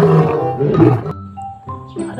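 A lion gives one loud, close roar lasting about a second, rough and harmonic, then trails off into quieter tonal calls and faint background sounds.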